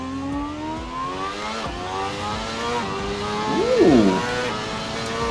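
A racing car engine in a sim racing game revs through rising and falling gear pitches, with a sharp rev blip partway through, loud and continuous under a brief exclamation from a player.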